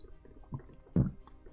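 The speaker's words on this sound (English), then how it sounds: "And I just burped." A single short, low burp after eating salad and tortillas, close and fairly loud, preceded by a smaller gulping sound.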